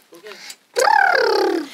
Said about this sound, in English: the new chicken flock